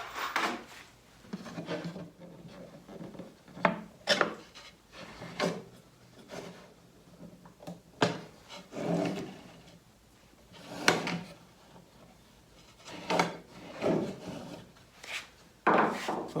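A wooden drawer is slid in and out of a handmade console table, with repeated rubbing wood-on-wood scrapes and soft knocks in an uneven rhythm, close and fairly quiet.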